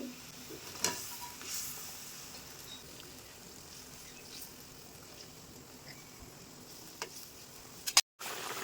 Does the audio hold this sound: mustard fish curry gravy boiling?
yes